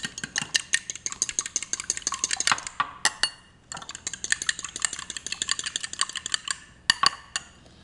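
Eggs and milk whisked briskly in a bowl for an oven omelet, a fast run of close, light clinks and taps of a utensil against the dish, with two short pauses.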